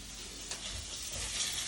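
Onions and mushrooms fry in a pan with a steady, soft, even sizzle and no talking.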